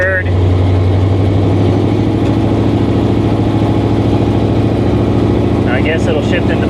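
Inside a 1959 Rambler with a 1000 hp engine on a test drive, a loud, steady engine drone fills the cabin under a running road rumble as it pulls through the gears, with brief high chirps near the end.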